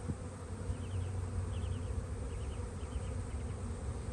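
Honey bees hum steadily across a hive frame holding drones, workers, larvae and pollen, a dense continuous buzz close by with a few brief higher whirs of individual bees passing.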